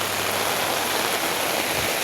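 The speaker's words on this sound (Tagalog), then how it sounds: "Grabe ang ulan." Heavy rain pours in a dense, constant hiss during a relentless downpour, loud and close, with no voices.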